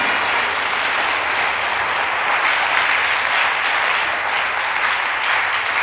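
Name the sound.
audience applauding and acclaiming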